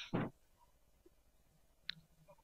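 Keyboard keys are pressed for Microsoft Word 2007 shortcuts: one loud close click at the start, then faint sparse taps and small clicks spread across a quiet room.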